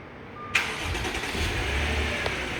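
A 2013 Audi Q7 cranks and fires up from a remote starter after a short delay, a sharp start followed by a steady close idle hum with no talk.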